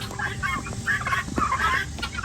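Pet birds cluck and chatter in a busy, continuous cluster of calls close by, with some faint voice or other noise mixed in underneath.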